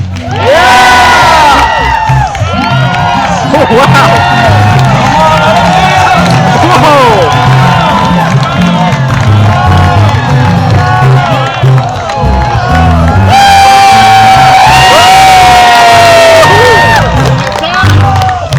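A large crowd of children cheers, shouts and whoops loudly and continuously, with excited voices rising in bursts and an adult voice occasionally cutting through.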